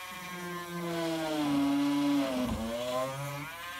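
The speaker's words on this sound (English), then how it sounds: "So we're going to need to use a Dremel with a little bitty drill bit." A Dremel rotary tool with a tiny drill bit boring a hole in model train track, a steady whining motor tone that dips in pitch midway as the bit bites, close and continuous with no talk.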